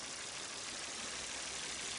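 A 2005 Volvo S60 with a 2.4 naturally aspirated engine idles with a connecting rod bearing knock, producing a steady broadband running noise, fairly faint and even from start to end.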